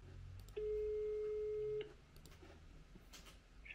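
During a phone call, a single steady ringback tone sounds for about a second, clear and moderately loud above a faint, muffled room hiss, then stops and leaves only quiet background.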